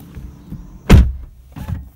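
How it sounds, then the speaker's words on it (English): Door of a 2018 Lexus LC500h hybrid coupe shutting from inside the cabin: one loud, deep, close thud with a short fading tail. "All right, so shutting the door on the LC."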